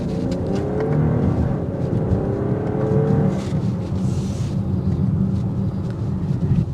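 A 2024 BMW X5 xDrive40i in sport mode accelerates hard from a stop, engine note rising steadily from the cabin, loud and continuous with no talk.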